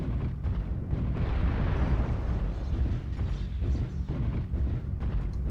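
An incoming missile explodes in a video game, a loud, sustained rumbling blast with crackling bursts that fills the whole span without letting up.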